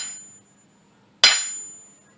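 A steel hammer strikes a rock once, a sharp, loud, close impact with a short metallic ring that fades quickly, following a stretch of near silence with a steady faint hum in the background.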